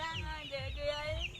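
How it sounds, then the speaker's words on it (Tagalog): Chickens cluck and murmur close by in a short, continuous stretch of soft bird calls, with no talking. "Marami ditong manok."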